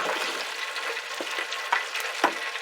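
Golden-brown fried alligator pieces tumble into a hot pan and set off a steady, broad sizzle of frying oil, with a few louder pops and crackles breaking through the continuous hiss.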